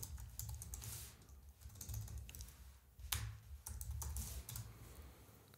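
Fingers type the word "continue" into a chat prompt on a computer keyboard in quick, close bursts of keystrokes broken by short pauses, with no voices.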